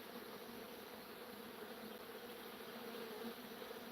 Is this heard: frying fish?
no